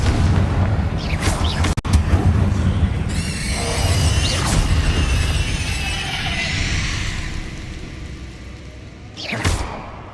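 Confringo blasting spells in Hogwarts Legacy go off with loud booming explosions and whooshes over a rumbling battle bed, followed by sparkling magical shimmers and a final burst near the end.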